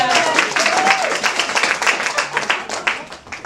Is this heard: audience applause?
yes